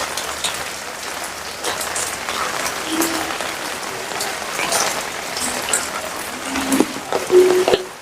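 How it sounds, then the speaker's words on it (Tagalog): Light rain falls steadily on surfaces during a walk through K1 Talipapa market, a continuous patter with occasional sharper drops and faint background sounds. "Medyo humina na yung ulan."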